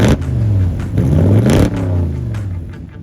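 A 1976 Chevrolet El Camino V8 with Hooker exhaust manifolds and 2.5-inch stainless dual exhausts revs hard several times in quick succession, loud and close, its rising and falling engine note alone.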